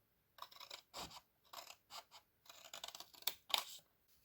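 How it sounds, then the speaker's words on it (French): Scissors snipping through paper along a fold while making a small hanging Advent calendar gift box, a series of short close crisp cuts in quick bursts with brief pauses, ending in two sharper louder snips. "vous coupez dans l'axe de la languette"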